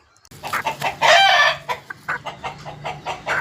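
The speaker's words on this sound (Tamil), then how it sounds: "15 கோழி இப்போ பேக் பண்ண போயாதுங்க." Chickens being packed for sale cluck and squawk close by, with one loud drawn-out crow-like call followed by a run of quick, excited clucks. No one speaks.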